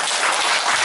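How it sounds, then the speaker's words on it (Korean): Applause from an audience at a provincial citizen jury meeting, a short burst of dense, steady clapping filling the room, loud and close, with no voices over it. "박수 한번 주시죠."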